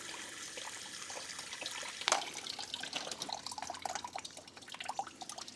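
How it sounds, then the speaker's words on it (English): Coolant water trickles and drips steadily from the radiator drain of a Nissan Micra K11, splashing in irregular spurts close by, with no voices. "what we're looking for is nice clean water to come out the bottom"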